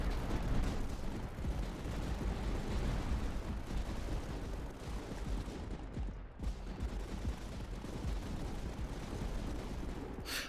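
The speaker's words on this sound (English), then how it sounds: "look at those explosives taking out the little dudes" Dense, continuous barrage of light mortar explosions and gunfire in the tower defense game Tower Dominion, a rumbling wash of overlapping blasts at steady volume throughout with no pauses.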